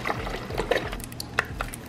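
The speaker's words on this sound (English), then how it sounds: "Now I'm going to take 4 cups of beef broth" Beef broth pours into an Instant Pot, a close, trickling splash with small irregular gurgles and plinks over about two seconds.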